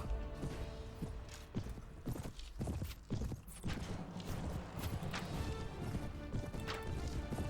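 Rapid hoofbeats pound in an uneven rhythm over a busy, noisy background of clanks and rumbles, in a battle in the video game Mount and Blade: Warband.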